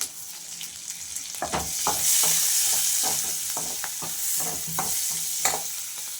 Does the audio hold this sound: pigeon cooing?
no